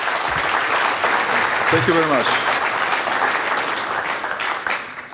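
Audience applause fills the room at a formal thank-you event, a steady wash of clapping throughout, with someone briefly speaking over it.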